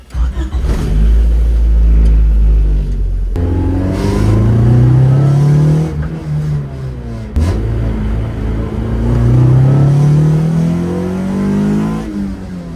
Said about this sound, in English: the car fired right up